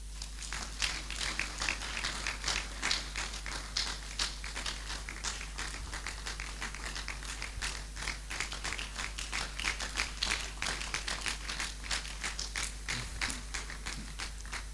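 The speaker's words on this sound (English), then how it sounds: "Please applaud my father." Steady applause from an audience at a birthday lecture honouring Chief Folake Solanke SAN, dense clapping sustained at an even level throughout, fairly distant and reverberant with no talking over it.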